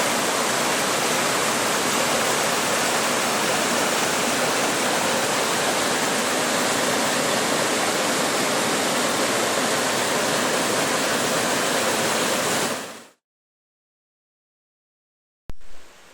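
Hot waterfalls in the Rocky Mountains give a loud, continuous broadband roar of rushing water, close and steady for about thirteen seconds before cutting to silence, with a brief return at the very end.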